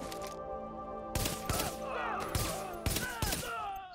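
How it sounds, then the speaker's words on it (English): An M1A semi-automatic rifle fires in the video game The Division, about six sharp, loud single shots at irregular intervals, each with a brief ringing tail, over steady game ambience. "And here's the test with the classic M1A."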